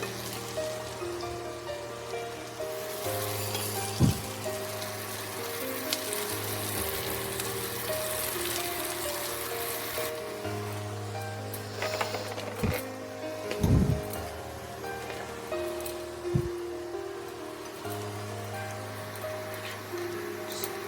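Thinly sliced onions fry in hot oil until deep red, making a steady, dense sizzle over a low hum, with a few sharp clinks and knocks from the pan.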